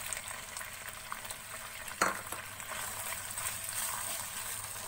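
Chopped onion frying in hot oil with ginger garlic paste for kabab karahi, a steady close sizzle with a brief sharp crackle as it is stirred, no voices.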